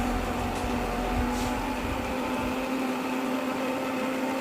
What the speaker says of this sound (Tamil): இதை மூடி வச்சு மிக்ஸி ஆன் பண்ணி ஜூஸ் போட ஆரம்பிச்சிடலாம்.